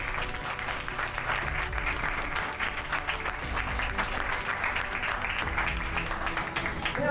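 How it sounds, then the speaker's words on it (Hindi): Church congregation gives steady, loud applause, a dense wash of many hands clapping throughout with faint voices underneath. "तो उन बच्चों के लिए और जितने आप सभी के लिए जोरदार ताली हो जाए।"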